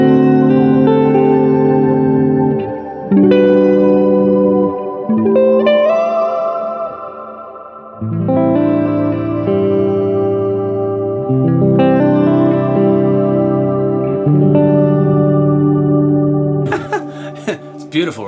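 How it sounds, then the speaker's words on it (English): Strymon BigSky reverb pedal set to a shimmer reverb, with sustained guitar chords blooming into a long, bright, octave-up wash that swells and overlaps across several strums before fading. "I've got a shimmer reverb,"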